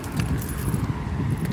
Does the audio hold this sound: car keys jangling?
yes